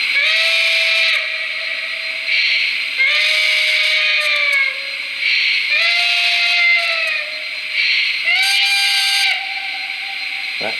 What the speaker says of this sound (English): That is a super high banshee whistle there.